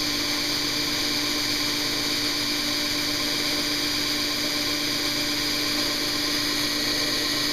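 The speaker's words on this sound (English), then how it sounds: "when cutting with the small wheel, I find just go nice and slow and let it cut" A small cutting wheel on a machine spins at high speed, a steady piercing whine with a constant high-pitched tonal hum and grinding hiss, unbroken and close.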